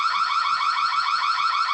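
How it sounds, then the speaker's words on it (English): A smart bird feeder camera sets off its alarm, a steady, loud, high electronic tone that wavers slightly and holds for under two seconds, with no voices over it. "This will sound an alarm"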